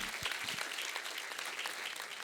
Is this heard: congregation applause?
yes